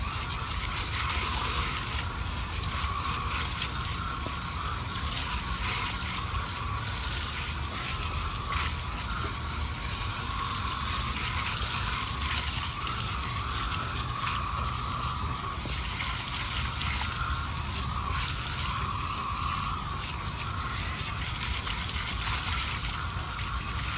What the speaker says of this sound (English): I'm going to rinse it off and we'll take a look at the results